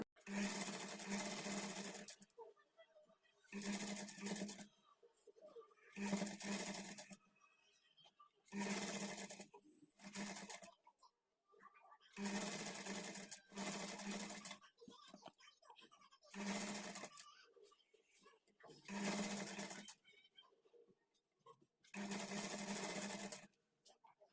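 A sewing machine stitches folded fabric for blouse neck piping, running in about eight loud bursts of two seconds or so, each separated by a short pause.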